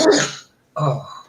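A single quick sneeze, close and fairly loud, followed after a brief pause by a short voiced exclamation.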